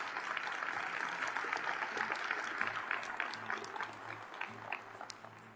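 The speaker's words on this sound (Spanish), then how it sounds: "un aplauso para todos ustedes" Audience applause at a results presentation event, a dense, even wash of clapping held at moderate, somewhat distant level throughout.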